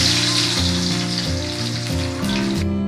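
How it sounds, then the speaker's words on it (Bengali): Sliced onions sizzle in hot oil in a pan while a chicken curry is being cooked, a steady, close frying hiss that runs throughout beneath a prominent backing melody. "এবার বন্ধুরা আমি পেঁয়াজটা দিয়ে দেবো।"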